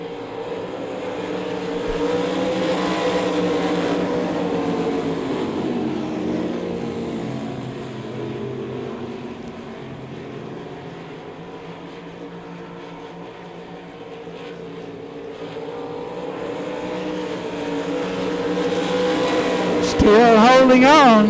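Race cars circling the oval at Devil's Bowl Speedway, engine roar swelling and fading as the pack passes, loud throughout with a sharp nearby burst near the end, under continuous announcer commentary.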